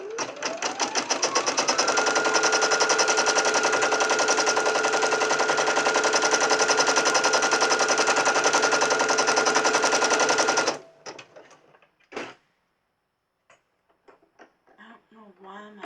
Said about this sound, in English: I don't know why my machine is rattling so bad.